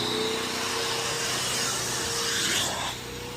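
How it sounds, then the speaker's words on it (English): A vacuum cleaner runs steadily while cleaning a car interior during a deep clean, its continuous whooshing suction heard close up with rubbing and scraping texture and a slight drop in level near the end. "Put it on the vacuum."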